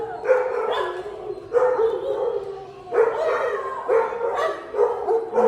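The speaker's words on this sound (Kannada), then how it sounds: "ನೋಡಿ, ನಾಯಿಗಳ ಸೌಂಡೇ ಸೌಂಡು" Several dogs bark and howl together in bursts, about five loud clustered outbursts of overlapping barks and yelps, close to moderately near, with no talk over them.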